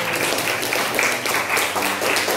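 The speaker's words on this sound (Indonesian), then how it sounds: "Tepuk tangan untuk kelompok satu." A class of students applauds a student group that has just finished presenting in a history lesson. The clapping is dense, steady and moderately loud for the whole stretch.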